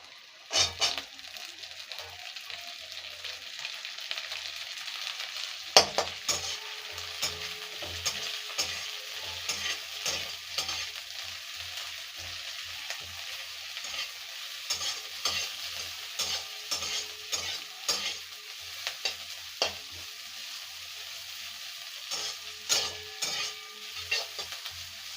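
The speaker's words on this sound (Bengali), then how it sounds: "এটা ভালো করে প্রথমে ভেজে নেব।" Onions frying in a pan while being stirred, with a steady bright sizzle and repeated scraping knocks of the spoon against the pan, close and continuous, no talking.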